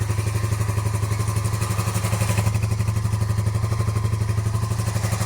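Cafe racer motorcycle engine idling steadily after a won't-start fix, a low rhythmic thrum with light mechanical clatter, close and continuous throughout.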